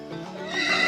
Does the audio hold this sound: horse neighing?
yes